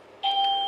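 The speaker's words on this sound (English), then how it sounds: "would you like to try out our doorbell?" An Aventech doorbell sounding right after its button is pressed, a single steady electronic tone that begins abruptly and holds, fairly close and clear with no talking.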